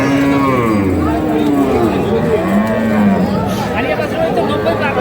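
Cattle at a crowded village livestock market in Khochabari moo in long, loud calls, one after another, close by. Steady crowd noise and people talking run underneath.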